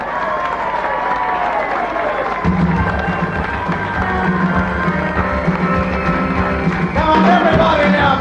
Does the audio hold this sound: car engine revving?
no